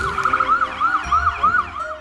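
An ambulance siren wails in a repeating rising-and-falling yelp pattern, loud and close, with low vehicle rumble beneath and no talking.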